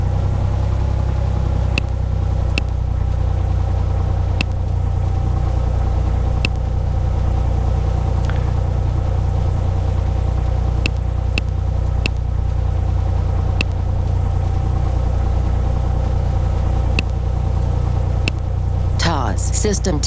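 A Cessna engine idles steadily in the Prepar3D flight simulator as it warms up before taxi, a constant low rumble that stays loud and even throughout, with brief clicks scattered over it.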